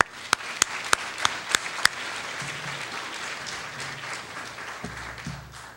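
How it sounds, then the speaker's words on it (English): Audience applause at a New School event on transforming New York City schools, opening with several loud, evenly spaced individual claps up close before a broad crowd ovation settles into a steady, dense patter with faint voices underneath. "So please join me in giving them a round of applause."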